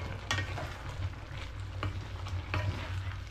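A spatula stirs food in a cooking pan over a steady background sizzle, with several distinct scraping strokes spaced about a second apart.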